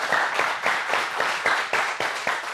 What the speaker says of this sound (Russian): Здесь должны быть отдельные аплодисменты